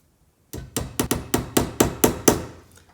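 Eight sharp, evenly spaced hammer blows drive a nail into a wooden board, each strike ringing close and loud in a steady rhythm with no talking.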